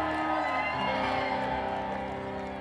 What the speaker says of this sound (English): Give yourself a cheer!